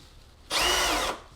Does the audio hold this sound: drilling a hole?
yes